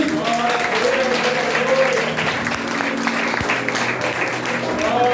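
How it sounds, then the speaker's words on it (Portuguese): Church congregation applauding during a family missionary worship service, a steady dense wash of clapping that fills the whole stretch at close range, with a voice faintly audible beneath. "As palmas que louvam o Senhor."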